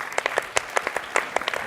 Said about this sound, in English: you give a big round of applause